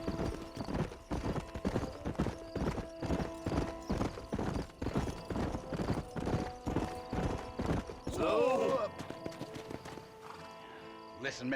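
Horse hooves galloping in Red Dead Redemption, a rapid, steady clip-clop beat close by, ending with a loud neigh, with talking voices over the ride.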